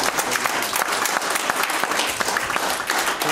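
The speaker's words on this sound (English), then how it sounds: "Give him a hand clap" Church congregation claps hands at a Christmas morning service, a steady, dense patter of applause at moderate loudness with no talk over it.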